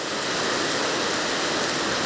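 Steady rain falling in Surin, Thailand, a dense even hiss of drops on surfaces that holds constant throughout, with no voices.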